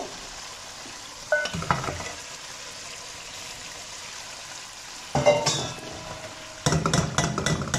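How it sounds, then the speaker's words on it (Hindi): Goat trotters fry in spiced masala in a pan, a low sizzle running throughout with a few bursts of stirring and scraping against the pan, close and fairly quiet, no voices. "अब पाए इसमें अच्छे से भूनेंगे"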